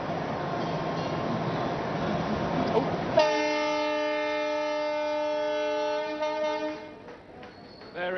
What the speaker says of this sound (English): The train is off and on its way.